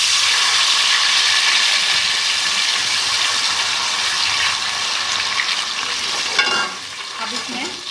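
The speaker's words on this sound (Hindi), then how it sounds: "थोड़ा सा पानी शामिल करेंगे" Water poured into a hot pan of sizzling cumin for turmeric garlic rice gives a steady, loud frying hiss throughout, easing slightly toward the end with a brief clatter near the close.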